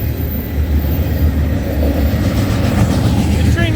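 A CN freight train rolls past Cobourg VIA station in Ontario at night, a loud, close rumble of wheels and cars continuing throughout, with a faint squeal near the end.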